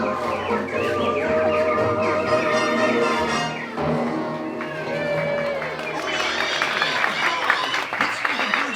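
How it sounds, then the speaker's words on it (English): Audience applause and cheering during the Enchanted Tiki Room show at Disneyland, a dense, steady wash of clapping mixed with animatronic bird chatter, music and voices, loud and continuous throughout. "Let's give the birds a standing ovation"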